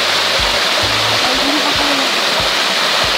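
Mountain stream water at Sui Ma stream on Braemar Hill, Hong Kong rushes steadily and loudly, a dense continuous wash of flowing water with no voices.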